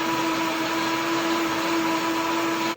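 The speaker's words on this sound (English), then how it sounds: "my plan is to blend this up" A blender whirring steadily as it blends a banana mixture, a loud continuous motor whine held close for a few seconds and cutting off at the end.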